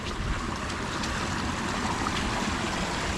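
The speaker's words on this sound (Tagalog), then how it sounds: "kalakas ang volume ng tubig na napasok" Strong floodwater pours into a newly dug canal during heavy rain, a dense, steady rushing roar of water that stays loud and unbroken throughout.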